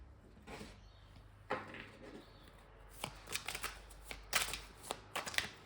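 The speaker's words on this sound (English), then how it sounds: "I'm going to take some more cards." Tarot cards being shuffled by hand at close range: quiet at first, then clustered bursts of crisp riffling and flicking, growing busier toward the end, with no voice.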